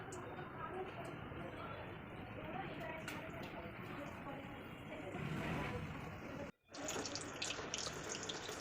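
Green chillies coated in gram flour batter fry in hot oil for chilli bhaji, giving a loud, steady, dense sizzle that drops out briefly near the end before resuming.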